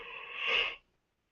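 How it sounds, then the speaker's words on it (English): A single drawn-out yawn from a man chatting about wrestling, a breathy, rising exhale close to the mic that swells for under a second and then cuts off into silence. "I keep yawning"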